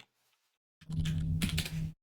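Rapid typing on a computer keyboard, a dense burst of close clicking keystrokes lasting about a second after a brief silence, with no talk.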